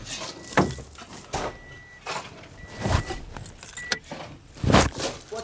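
Car keys jangling near a truck in a series of short metallic rattles and clinks spread across a few seconds, close by, with light handling noise between the bursts.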